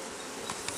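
Honey bees hum inside a brood box hive with eleven cut-down narrow frames, a dense, close, continuous buzzing drone with no speech over it.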